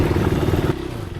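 Close clattering engine of a KTM motorcycle on a mountain road, loud and rough for most of the moment before dropping abruptly to a lower, quieter idle near the end.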